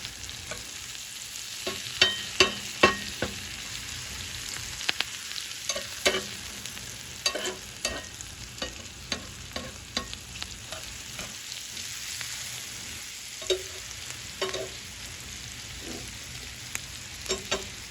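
Scrambled eggs are stirred in butter in a hot cast iron pan over low, even heat, with a steady soft sizzle broken by frequent light scrapes and taps of the utensil.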